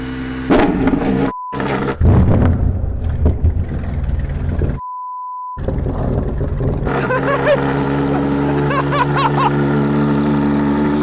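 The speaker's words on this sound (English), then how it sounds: "Let's do a cold start." A Bugatti Tourbillon cold-starts: a starter whirs through broken bursts and a pause, then the engine catches and settles into a loud, steady idle with rich harmonic drone. Voices are heard over the engine.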